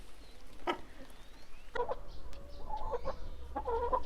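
Chickens clucking in a backyard poultry pen, several short close clucks and calls coming in bursts over a soft outdoor background, with no talking.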